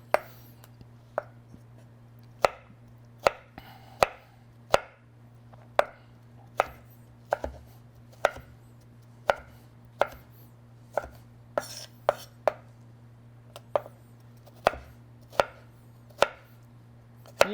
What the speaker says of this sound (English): We're just chopping it up.